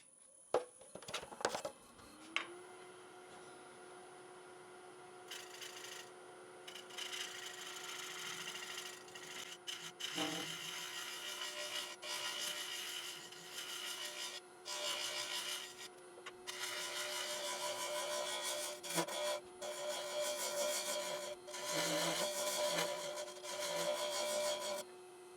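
A wood lathe turns a bowl while a scraper works the spinning wood, giving a steady loud rasping scrape over a constant motor whine, with the cutting rising and falling in bursts for the whole stretch.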